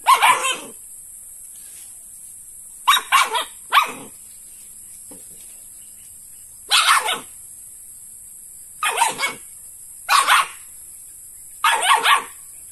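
A dog barks in short bursts, single and doubled, spaced by silent gaps, fairly close with a steady high hiss behind, after catching a snake.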